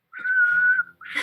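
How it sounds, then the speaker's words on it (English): A single sharp, clear whistle from a person holds a steady high note for most of a second, close and loud, then a breathy burst follows. "I whistle a sharp note and it goes shooting straight into the air."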